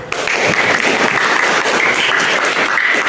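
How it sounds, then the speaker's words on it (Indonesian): A classroom of students applauds a presenting group, giving dense, loud, continuous clapping that stays steady throughout with no talking over it. "terima kasih kelompok 2 beri tepuk tangan"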